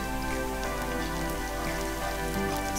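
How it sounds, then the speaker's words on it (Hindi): Whole spices, black cardamom, cumin seeds and bay leaf, frying in hot oil in a pan over medium heat, giving a soft, continuous fine crackle and sizzle that stays quiet and even throughout. "अब हम इसमें डालेंगे साबुत मसाले, बड़ी इलायची, ज़ीरा और तेज़ पत्ता।"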